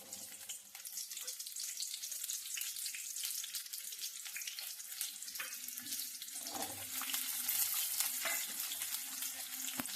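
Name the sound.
small and big onions frying in hot oil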